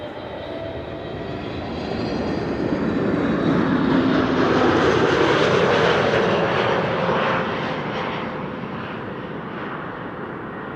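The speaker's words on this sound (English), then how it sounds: "This is Transavia flight 6412, arriving from Naples, Napoli in Italy, A321neo." A Transavia Airbus A321neo passenger jet arriving from Naples at Amsterdam Schiphol Airport passes with a steady engine roar that builds, peaks midway, then eases off, fairly loud and with no talk.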